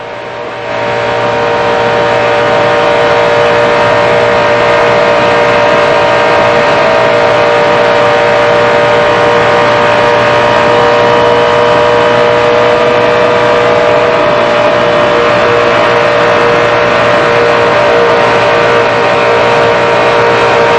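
Stock cars race in the 2004 Daytona 500 at Daytona, their engines a loud, sustained, steady roar that swells in over the first couple of seconds and holds throughout with no talk.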